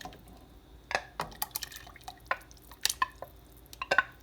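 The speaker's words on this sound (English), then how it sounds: "I'm going to add the special sauce." Special sauce for menudo pours and drips into the pot in a quiet, close series of irregular splashes and glassy plinks, with no speech.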